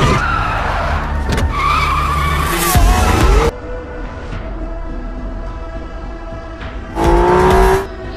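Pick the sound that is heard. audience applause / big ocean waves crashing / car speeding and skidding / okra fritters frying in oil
car speeding and skidding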